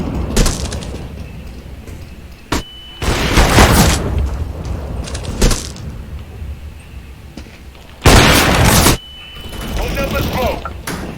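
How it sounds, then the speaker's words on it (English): Grenades going off in the battle-royale game PUBG: two loud, wide booms several seconds apart, each rumbling for about a second, with sharper cracks and clatter between them and voices over the action. "Molotov. Grenade out."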